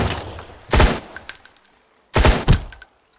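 Two loud, booming shotgun blasts ring out in a video game, each with a short echoing tail and faint mechanical clicks as the gun is worked between shots.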